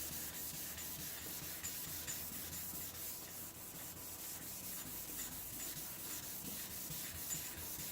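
Steady, continuous scratchy rubbing of sandpaper on a painted panel, close and fairly loud, with rhythmic back-and-forth strokes and no talking.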